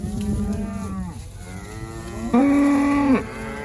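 Cattle on a hay meadow farm low in long drawn-out moos, one call fading before a louder, sustained bellow rises close by, over a faint outdoor background.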